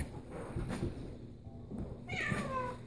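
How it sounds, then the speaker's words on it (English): A cat meows a few times indoors, fairly close, with short high cries that grow more pronounced near the end, and no voices over it. "Evie, baby cat."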